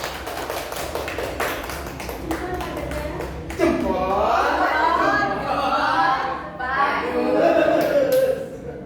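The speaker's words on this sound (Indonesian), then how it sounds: "Tepuk tangan." A school leadership session audience claps, sparse taps at first building into steady applause mixed with overlapping chatter and voices throughout.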